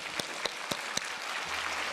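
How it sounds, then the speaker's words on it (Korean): A crowd claps steadily, with a few sharper claps standing out near the start as the applause swells and continues. "예, 우리 박수로"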